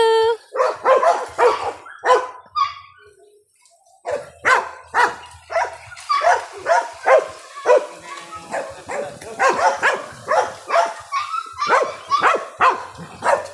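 Dogs barking in a series of sharp, repeated yaps, close and fairly loud, with short gaps; a person's voice comes and goes between the barks.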